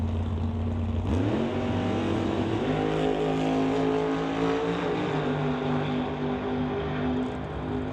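Drag race cars, a Corvette and a Beretta door slammer capable of 7-second passes, launching together with a sudden loud roar and rising engine pitch, then sustained heavy engine drone carrying down the strip.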